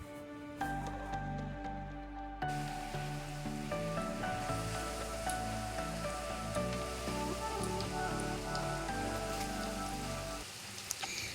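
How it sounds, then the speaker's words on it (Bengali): Flour-coated chicken pieces deep-frying in hot oil for KFC-style fried chicken, giving a steady, dense crackling sizzle that carries on evenly throughout at moderate loudness. "এবার আমি ছাঁকা তেলে ভাজবো দেখুন"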